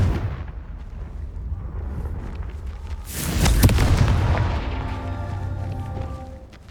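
A booming fire-spell explosion in the game Hogwarts Legacy, a single loud blast swelling in the middle and rumbling out over a low ambient bed.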